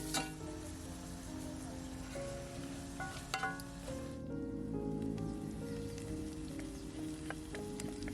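Vegetables sweat in a pan with a soft, continuous crackling sizzle, scattered with small pops and light clinks, faint and steady throughout.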